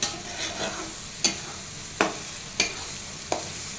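Whole spices fry in a pan for veg pulao, giving a steady sizzle close up, broken by four or five sharp scraping stirs of a spoon against the pan at uneven intervals.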